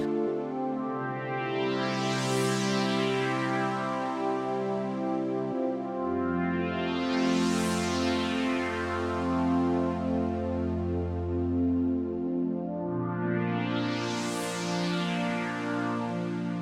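A sustained synth brass chord progression with a resonant filter sweeping up and down in slow, repeating waves, bright and continuous with no voices.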